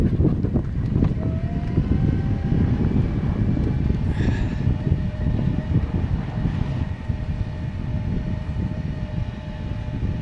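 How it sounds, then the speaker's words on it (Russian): Strong wind roars steadily outdoors in a vegetable garden during a hot summer, a constant low rushing buffet on the microphone that never lets up, with a few faint tonal sounds above it. "Очень сильный ветер."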